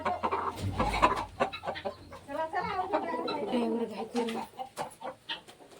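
A big rooster clucks repeatedly at close range at a tribal hamlet in Raigad, its throaty calls rising and falling in uneven bursts, with people talking nearby under and between the clucks.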